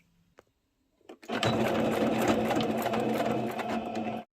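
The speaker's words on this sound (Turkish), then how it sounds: "Açık bıraktığımız kısmı da dikiyoruz" A sewing machine stitches the open section of an elastic-waist skirt, starting after a few faint clicks and then running as a steady, loud, close whir for about three seconds before stopping.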